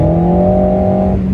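Alpine A110 Pure at motorway speed, its engine giving a loud, close, sustained droning roar with a steady tone that eases off slightly near the end.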